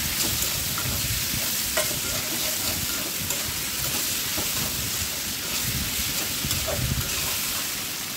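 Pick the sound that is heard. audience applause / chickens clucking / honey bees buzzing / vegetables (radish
vegetables (radish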